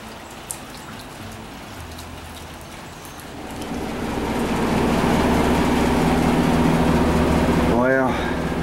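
Steady rain patters down on a rainy day, starting lighter and swelling into a louder, dense wash of drops after a few seconds, with a low engine-like hum underneath and a brief sweeping tone near the end.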